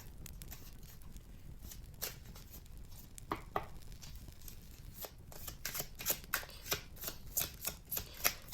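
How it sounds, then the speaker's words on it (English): Tarot cards are shuffled by hand in a quiet room: a soft riffling bed with scattered sharp slaps, growing into a quick, regular run of crisp card flicks in the last few seconds. "let us get some tarot cards"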